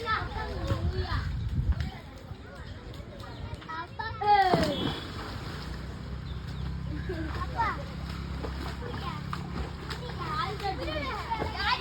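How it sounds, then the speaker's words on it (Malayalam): Boys jump and splash into a stream after rain. A burst of splashing rises briefly amid lively children's shouting and chatter that runs throughout. "ചെക്കന്മാരൊക്കെ ചാടാണ് തോട്ടിൽ"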